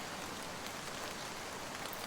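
Steady drizzling rain falling at night, a dense, even hiss of drops on surfaces with no pauses and no voices.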